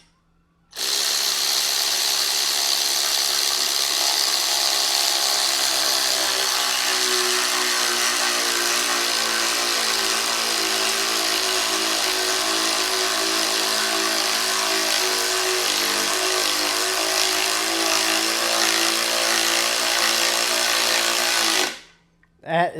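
A small Hypertough cordless ratchet runs continuously at close range, giving a steady, high-pitched mechanical whir that holds for around twenty seconds before it stops.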